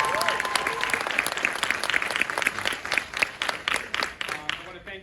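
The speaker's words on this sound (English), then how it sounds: "so a round of applause for Mr. Bennett." Applause from the audience at a high school winter concert, a crowd clapping steadily and fairly close, with the claps thinning out toward the end while some faint voices murmur underneath.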